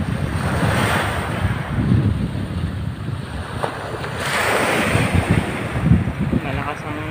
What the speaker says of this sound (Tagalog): Malakas ang hampas ng hangin.